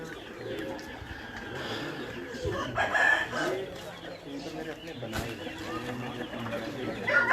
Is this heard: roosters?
yes